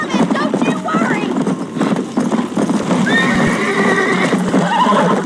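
In the video game Red Dead Redemption, a horse gallops with rapid clip-clopping hooves and lets out a loud neigh, while voices shout and talk over the action.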